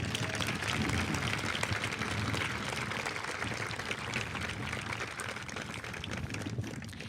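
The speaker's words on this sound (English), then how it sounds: "Please join me, everyone, in a round of applause." A large crowd applauds at an outdoor high school graduation ceremony on a turf field, a dense, continuous wash of clapping that stays loud and even throughout.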